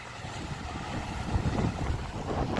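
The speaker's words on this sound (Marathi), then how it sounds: "जेटस्की आहे." A jet ski running on the sea at Alibag, heard as a steady low engine rumble mixed with wind buffeting and water noise, continuous and moderately loud throughout.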